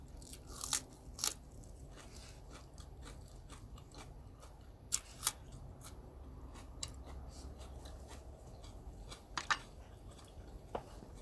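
Close, quiet chewing of crunchy food during a Thai home meal, with sharp crackling bites at irregular intervals over a faint steady background.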